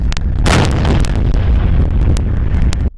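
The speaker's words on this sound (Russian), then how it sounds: "у экипажа было всего 3 выстрела из главного орудия" T-72 tank main gun firing at a biathlon tank competition range: a loud, heavy boom with a broad blast rolling on for over two seconds, then cutting off, with no talk.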